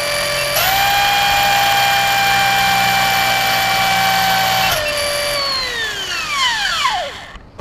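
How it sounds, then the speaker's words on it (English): A Traxxas Slash RC car with a Turnigy eNOS booster fitted screams at full throttle as a loud, steady high-pitched electric whine, then cuts off and winds down in falling pitch sweeps over the last seconds. "Full throttle, not active, and then I'm gonna go kick in the NOS."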